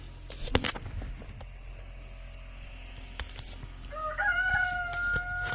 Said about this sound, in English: There's definitely chickens here.